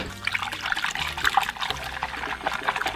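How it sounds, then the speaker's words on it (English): Elmer's glue poured into slime, a short wet trickling and dribbling sound, close and fairly loud, without talk. "I'm gonna add some more Elmer's glue because I want to see like maybe it has a different texture"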